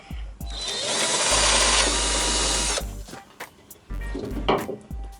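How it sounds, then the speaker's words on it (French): A power drill bores into a Jeep Cherokee XJ while Bushwacker flares are being fitted, a loud steady whine for about two and a half seconds, then short bursts of lighter mechanical clatter and handling noise. "Je perce à 5, ça me saoule."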